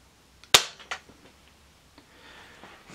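A Diana Mod 6 air pistol fires a single sharp, loud shot, followed by a softer mechanical click and faint handling noises, with no talking.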